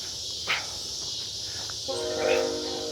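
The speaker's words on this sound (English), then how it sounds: "Train." A passing train rumbles steadily at a distance, with a horn sounding in the second half over the continuous background noise.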